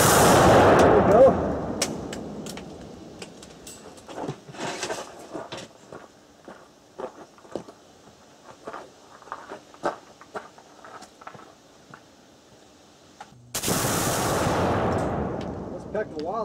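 Rifle shots, .22 and larger, setting off homemade exploding targets outdoors: a loud booming blast at the start, a stretch of scattered clicks and small knocks, then a second heavy explosion near the end.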